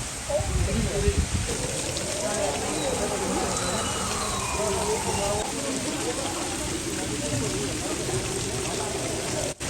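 Heavy rain pours down in a steady, dense hiss during a windy storm, continuous throughout, with people talking over it.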